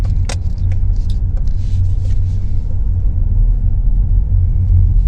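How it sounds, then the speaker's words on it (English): A car rolls slowly through a gas station lot with a steady low engine rumble and road noise, and keys jangle briefly near the start. Nobody speaks. "We'll just do a quick ride through here."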